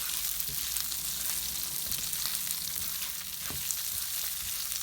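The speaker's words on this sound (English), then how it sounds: "Give this a bit of a stir, a bit more of a stir." Lentil curry fries and bubbles in a pan with a constant close sizzle, overlaid by occasional stirring scrapes and soft knocks, with no talking.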